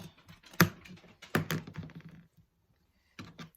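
Scissors or a rotary cutter cutting a 2-inch corner square out of fabric for a tissue box cover: a cluster of close, soft tapping and snipping clicks, a pause, then a few more.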